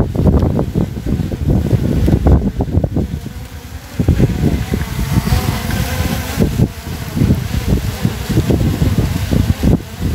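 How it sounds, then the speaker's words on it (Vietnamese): Strong gusty wind buffets a microphone outdoors, loud low rumbling thumps coming in uneven waves throughout with no break. "nay gió quá dữ luôn anh em"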